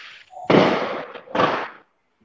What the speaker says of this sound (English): It sounds like some fireworks are going behind me